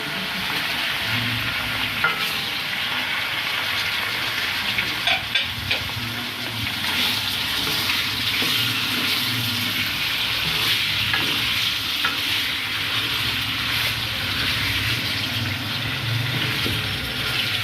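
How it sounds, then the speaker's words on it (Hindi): Chicken sizzling in garlic ginger paste in a hot pan, a constant loud frying hiss with occasional scrapes and clinks as it is stirred, no voices. "ہم نے چکن کو 5 منٹ کے لیے بہت ہی اچھی طرح سے فرائی کر لینا ہے۔"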